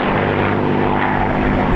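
A P-51D Mustang with a liquid-cooled engine flies formation aerobatics at an MCAS Cherry Point airshow, its propeller engine a loud, steady, close droning roar that swells slightly throughout.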